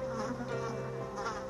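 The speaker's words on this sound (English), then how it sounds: "Consider the bees." Bees buzzing steadily up close, a continuous droning hum with slight wavering pitch.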